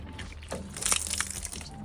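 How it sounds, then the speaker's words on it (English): Leftover water spills and splashes out of a just-undone pool hose connection, an irregular close gush with small bursts and no talking. "Residual water is going to fall out, not a big deal."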